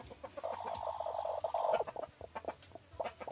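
Chickens cluck near a rural home, a run of short throaty calls with a louder stretch in the middle, fairly quiet and with no talking over them.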